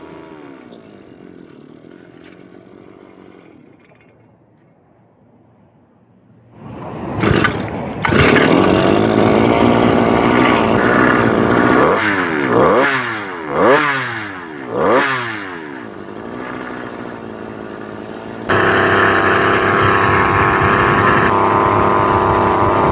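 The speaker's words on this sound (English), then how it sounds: "look at that little motor go" Vintage-style 2-stroke friction-drive motorized bicycle engine idling, then starting with a sharp burst into a loud buzzing run, revving up and down several times before settling into a steady high-pitched drone, close by.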